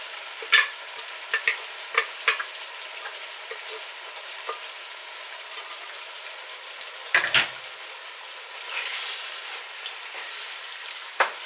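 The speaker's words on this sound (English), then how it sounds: "at this point we're gonna add our blended pepper together with the onions" Blended pepper and onions fry in a pot for a Ghanaian okra stew, a soft continuous sizzle with scattered spoon scrapes and knocks, including a louder clatter midway.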